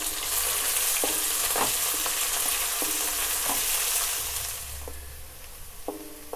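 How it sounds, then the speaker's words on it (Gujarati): Green chillies and chopped green garlic sizzle in hot tempering oil in a pan, with steady frying hiss and several scraping stirs of a spoon, the sizzle easing toward the end. "વઘાર મિક્સ થઈ ગયો છે."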